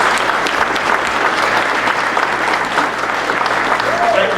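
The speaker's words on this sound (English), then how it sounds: "So can we give a round of applause for the Rio staff for always taking great care of us?" Audience applause for restaurant staff at a general membership meeting: dense, steady clapping from a room full of people, loud and continuous throughout, with a faint voice briefly audible beneath it.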